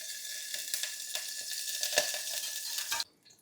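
Peanut oil heating in a pan, a steady close sizzle with faint stirring clicks that cuts off abruptly near the end.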